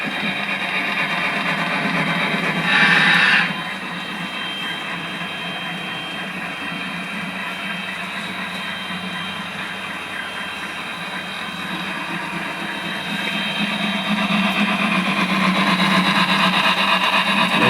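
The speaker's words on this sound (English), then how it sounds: "A through train, plenty of cars on this one." Model train running on the Great Northern DownUnder layout during an operating session, a long through train with many cars: a steady rumbling roll with a brief hiss near the start, building slightly louder toward the end, no voices.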